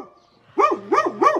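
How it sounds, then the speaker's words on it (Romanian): A dog on a rooftop barks three times in quick succession, clear and fairly close, each bark rising and falling in a tonal yelp, with a quiet lull before the first. "Un cățel acolo pe acoperiș."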